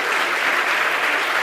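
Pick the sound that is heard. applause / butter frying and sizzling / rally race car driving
applause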